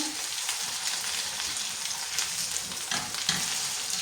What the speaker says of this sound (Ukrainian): Коли у вас отак от вже підсмажилася картопелька